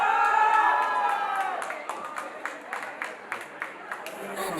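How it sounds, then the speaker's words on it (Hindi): An audience at a wedding sangeet claps and cheers after a performance, a loud burst that fades into scattered claps, with a voice speaking over the noise. "तो जोरदार ताली हो जाए इस बहुत ही प्यारे से परफॉर्मेंस के लिए।"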